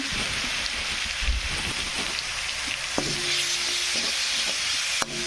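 Ginger-garlic masala paste frying in hot oil for mutton kheema, a loud, dense sizzle that stays close and steady, with a few soft knocks and clinks from stirring and no voices.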